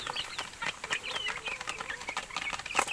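Rhode Island chickens kept as free-range layers cluck and chirp in a busy, overlapping chorus at close range, with a few sharper calls and some wing rustling throughout.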